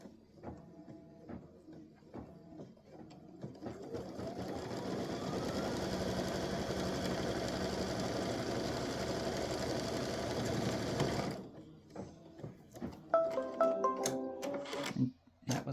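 An embroidery sewing machine stitches an applique tack-down line, a rapid mechanical chatter that speeds up and runs steadily for several seconds before stopping, followed by a few handling clicks and rustles.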